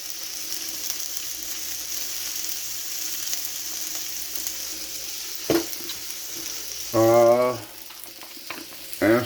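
Seasoned onions with coarse black pepper sizzle steadily in a pan, a continuous frying hiss with a couple of sharp clatters and a brief tonal squeak near the end.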